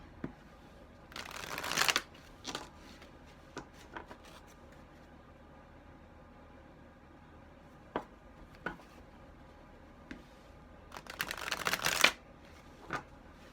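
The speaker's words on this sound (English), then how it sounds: "I'm not going to say how many times I'm shuffling it this time" A deck of cards is shuffled during a tarot pick-a-card reading, with two long riffling bursts, one early and one near the end, separated by scattered single card taps and quiet handling.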